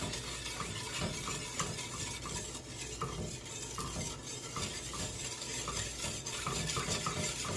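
Cocoa powder and sugar are whisked together in a bowl for chocolate pudding, a rapid, steady rhythm of metal whisk clicks and scraping against the bowl, close and continuous with no talking.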